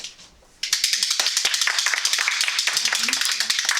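After a quiet moment, applause breaks out abruptly at a Toastmasters club meeting, a small group clapping close by in quick, distinct, fairly even claps that carry on steadily to the end.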